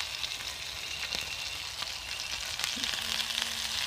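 Shrimp frying in a hot pan, a continuous close sizzle at steady loudness with a few soft clicks and a faint tonal hum near the end.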